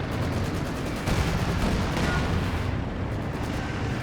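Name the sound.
artillery fire in video game Company of Heroes 2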